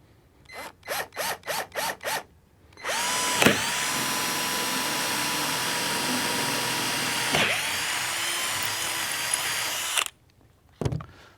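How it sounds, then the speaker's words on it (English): A power drill buzzes in six short pulses while drilling mounting holes in a boat hull for a trolling motor, then runs steadily for about seven seconds before stopping, followed by one more brief burst. Close and loud. "So once we get the 2 front mounting holes drilled, we're going to drill the back ones."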